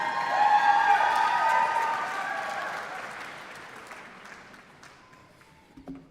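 Applause and cheering swell from the audience at a CUNY Graduate Center commencement ceremony in 2024, loud at first with a few whoops, then gradually fading to scattered claps.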